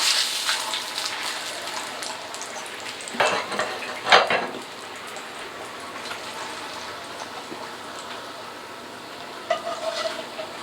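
BBQ beef taquitos frying in a pan of hot oil, a steady crackling sizzle throughout with a few louder clatters and stirring knocks of a utensil against the pan.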